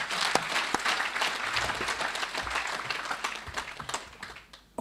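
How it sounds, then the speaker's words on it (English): An audience at a leadership academy event claps steadily for several seconds, a dense patter of hands that gradually thins out and fades, with no speech over it. "A round of applause for him once again."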